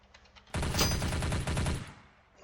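Gunfire in a roleplay video game, a loud sustained burst of rapid shots lasting about a second and a half, after a few faint earlier pops, then fading out.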